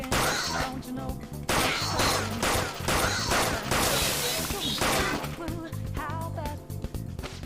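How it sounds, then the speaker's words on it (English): Rapid gunfire from a gun in the WakeWilder video game, loud, dense bursts of shots and impacts filling most of the stretch, mixed with game music and effects. "There are plenty of instances where rapid fire is going to be more useful than swinging your knife."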